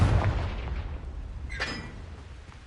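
Confringo, a fire blast spell in Hogwarts Legacy, goes off as a muffled boom and then a short, sharp crackling burst that fades quickly.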